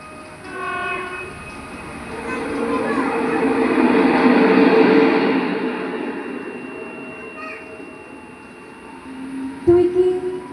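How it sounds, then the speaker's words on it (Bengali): A down train passes by, its rumble building to a loud peak mid-clip and then fading into the distance, with a brief sharp clank near the end. "ওই দেখ, ডাউন ট্রেন চলে যাচ্ছে।"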